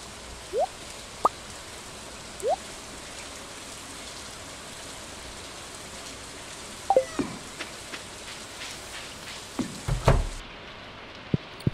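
Steady rain in the Stardew Valley farming game, a soft continuous hiss with scattered drips and plops rising toward the end, heard alone without talk.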